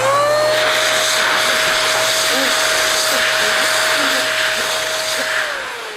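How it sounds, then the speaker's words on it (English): An EVO-S hand-held forced-air car dryer blows warm air with a loud, steady whine and rushing hiss close by, its motor tone holding level before winding down at the end. "drawing air in through the filter on this end, out through this end, power button right here"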